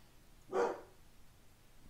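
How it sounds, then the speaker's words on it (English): A single dog barks once, a short, moderately distant bark over quiet room background. "So my dog's barking."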